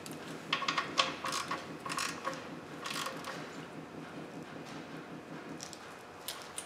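A car's oil drain plug is snugged down with a ratcheting tool, producing a run of quick mechanical clicks up close with a few sharper ticks and no voices.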